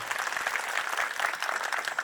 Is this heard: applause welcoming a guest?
yes